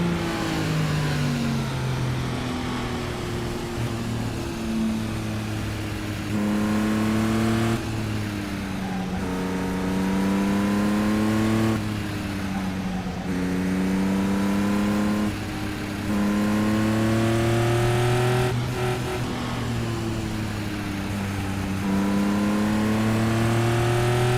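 Engines of race cars at the Indianapolis 500 drone steadily on the track under caution, with repeated rising and falling engine pitches as cars cycle through their gears in a long continuous roar.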